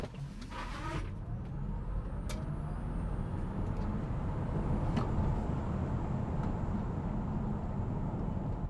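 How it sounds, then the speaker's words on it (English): Tesla Model Y electric SUV on Bridgestone Turanza EV tires accelerating hard from a standstill to 60 mph, a steady loud road and tire roar building with wind rush, continuous throughout with no talking. "Run number 1, 0 to 60s test on Bridgestone Turanza EV specific tires."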